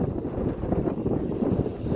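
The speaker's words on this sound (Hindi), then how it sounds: "दोस्तों तूफान भी चल रहा है, देखो चारों तरफ से बहुत तेज तूफान चल रहा है" Strong storm wind blowing across an open farm field, a steady low roaring rush with buffeting gusts that stays loud and constant throughout, with no voices.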